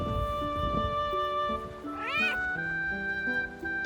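A cat meows on an inhabited island off Kitakyushu, Fukuoka, Japan, giving a few drawn-out, rising and falling calls that stand out clearly over a quiet background.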